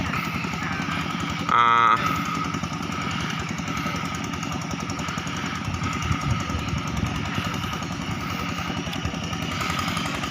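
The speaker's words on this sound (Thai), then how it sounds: "ใช้รถไถครับ" A walking tractor's small engine runs steadily and loudly throughout, with a rough, chugging idle and a brief sharper burst near the start.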